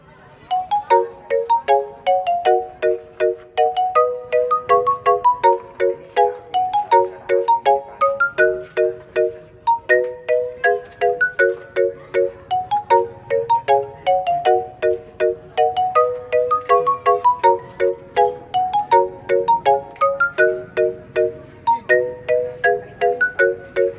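A phone ringtone sounds for an incoming call, a bright repeating melodic chime pattern cycling over and over, loud and clear with nothing else heard.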